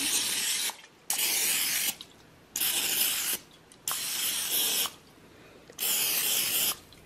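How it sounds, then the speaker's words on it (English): Five long bursts of aerosol cooking spray, each a steady hiss lasting about a second, separated by short pauses. Close and fairly loud, with no talking. "All you're gonna do is take and spray your pan."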